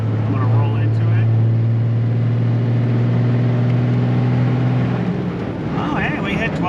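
A 12-valve Cummins diesel truck engine pulls under boost as the driver rolls into the throttle. Its loud, steady low drone holds close inside the cab, then eases off near the end.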